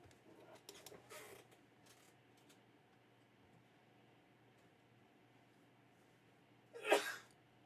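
A single sharp sneeze bursts out near the end, close and loud after a quiet stretch during a miniature painting session, with a brief soft voice earlier.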